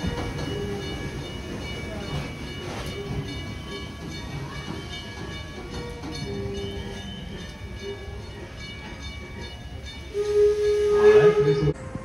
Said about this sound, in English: Let's wait for that train to stop.